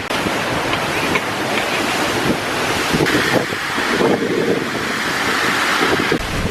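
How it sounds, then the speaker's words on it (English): Waterfall on Iceland's south coast heard from directly behind it, a loud, constant roaring rush of falling water mixed with heavy wind buffeting the microphone. "I'm directly behind waterfall now"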